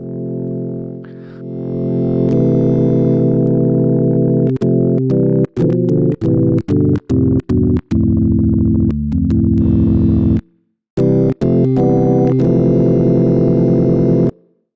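A sustained tonewheel organ chord with bright, buzzing crosstalk overtones, played in held blocks with several short stabs and brief gaps, loud and close with no voices.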